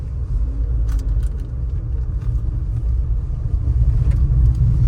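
A Tata Punch SUV's low, heavy rumble fills the clip, steady and loud from inside the cabin on a rough road, with occasional light rattles and knocks.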